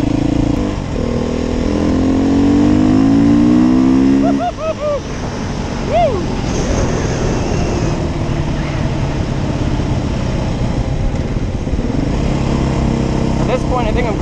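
A 2021 Beta 430 RR-S dirt bike engine runs loud and close on a trail ride, rising through a revving climb then settling into a steady, rough drone with wind and rider noise.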